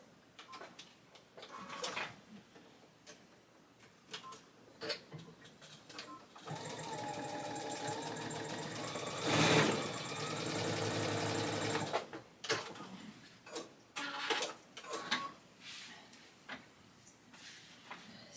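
Sewing machine stitching quarter-inch seams on a tote bag, a steady close mechanical whirring run of several seconds framed by softer ticks and handling clicks before and after.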